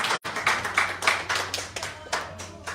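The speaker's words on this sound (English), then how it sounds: "Let's clap for Dr. Nico's honorable" Audience at a town hall meeting with Ugandans in Copenhagen claps for a guest, a moderate burst of hand claps with uneven rhythm and no talking.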